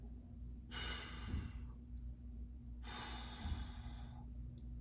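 Two long, breathy exhalations during a stick mobility exercise, each lasting about a second and a half, with a steady low hum underneath and no talking.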